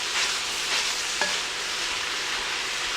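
Ground beef browning in a pot, with a steady loud sizzle throughout and a faint scrape as a masher pushes and twists through the meat, no voices.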